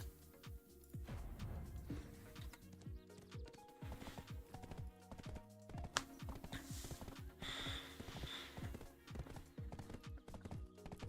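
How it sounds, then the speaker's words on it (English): A fast horse gallops in an online video game, its hooves clip-clopping in a steady, quick rhythm over a layer of background game music. "And run back to town on my wicked fast horse."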